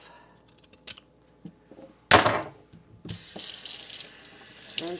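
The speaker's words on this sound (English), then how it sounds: "Rinse it off." A peeled sweet potato is rinsed under a running kitchen tap, a steady hiss of water that starts after a few small clicks and a louder splash.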